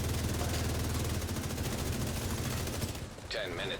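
Rapid gunfire from shooting in a video game, dense overlapping shots rattling loudly for about three seconds before stopping, followed by brief electronic game tones.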